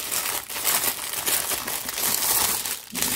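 A plastic bag from a diamond painting kit crinkles and crackles continuously and close up as it is pulled open, steady and fairly loud with no talking.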